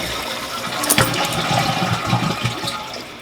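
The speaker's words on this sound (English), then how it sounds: "now you just want to go ahead and flush the toilet and make sure everything works properly" A toilet is flushed after its flush handle has been replaced. Water rushes in a loud, steady stream from close by, with a clunk of the handle near the start.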